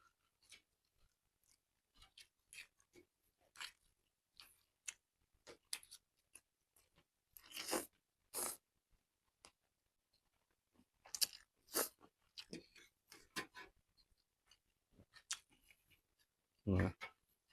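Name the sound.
eating crunchy Thai pounded rice noodle salad (tam khao pun)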